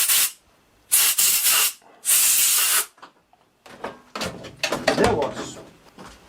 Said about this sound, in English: let's clean this with a burst of compressed air and maybe some brake cleaner